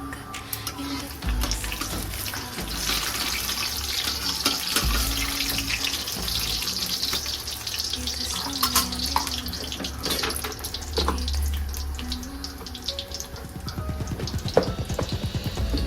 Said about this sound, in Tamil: கருவேப்பிலை கடுகெல்லாம் பொரிஞ்சுட்டு